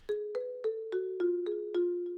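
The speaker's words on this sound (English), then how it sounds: "and now we also have the marimba" Marimba line in a song arrangement, eight evenly spaced mellow mallet strikes on nearly the same low pitch, each ringing briefly, clean and alone.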